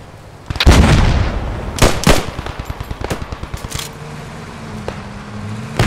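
Machine gun and rifle fire in Post Scriptum, a WWII shooter game: sharp single rifle cracks at first, then a steady rapid burst of automatic fire, loud and close, with scattered shots afterward.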